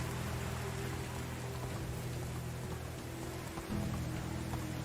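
Steady rain in the medieval survival game Medieval Dynasty, a continuous even hiss of falling drops with a low ambient hum underneath, no voices.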